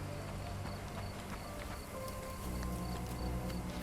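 Steady clip-clop of horse hooves at a walking pace in the video game Sherlock Holmes Chapter One, over a constant ambient hum, moderately faint and without voices.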